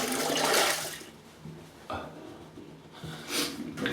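Hot then cold water splashes and runs as a face is rinsed after a wet shave with a Merkur Futur safety razor, coming in close, uneven bursts with a louder start and later surges.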